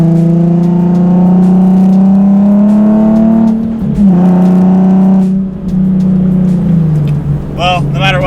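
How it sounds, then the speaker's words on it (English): Nissan 370Z exhaust during a downshift, close and loud: a steady engine drone that climbs slightly in pitch, dips, then settles back as the revs drop. "Let's do another downshift."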